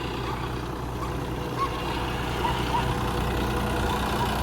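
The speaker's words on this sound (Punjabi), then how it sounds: "5405 ਜੌਂਡੀਅਰ ਹੈ ਜੀ ਤੇ 17 18 ਦਾ ਗੇਅਰ ਪਾਇਆ ਆਪਾਂ ਜੀ" A John Deere 5405 tractor pulling a rotavator in 17–18 gear runs with a steady, continuous low engine drone and churning rumble, constant and close throughout.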